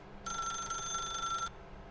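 A telephone rings in the video game The Stanley Parable: Ultra Deluxe, giving one bright, trilling electronic bell that lasts just over a second and stands out clearly over a quiet background.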